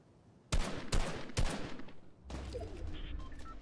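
Gunfire in the video game Fortnite: three sharp close shots in quick succession, then a lower rumbling burst trailing off.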